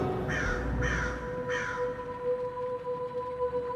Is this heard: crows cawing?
yes